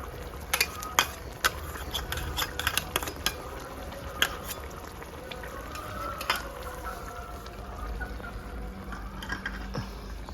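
Mutton with potato and papaya braising in a pan, with steady low sizzling and occasional scrapes and stirring clinks of a utensil against the pan, heard close with no talking.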